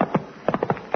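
Horse hooves clip-clop in a quick, uneven rhythm of several close, distinct knocks, from horses ridden in an old comedy scene.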